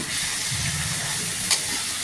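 Onions and tomatoes frying in a pan, salted, a steady broadband hiss and sizzle running evenly throughout, close and moderately loud, with one brief crackle partway through and no talk.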